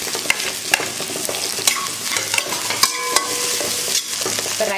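Okra sizzles steadily in a hot pan while a utensil stirs and scrapes it, giving irregular sharp clacks over the continuous frying hiss, close and fairly loud.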